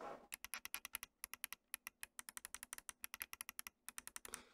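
Quick, quiet clicking of the side buttons on a Cooler Master MasterMouse MM711, many light clicks in fast uneven bursts with brief pauses, heard close up.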